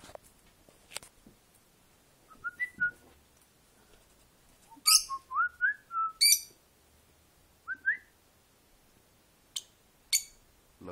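A pet bird makes sparse chirps and whistled calls indoors, short bright notes in loose bursts separated by quiet gaps, close and fairly clear, with no talking.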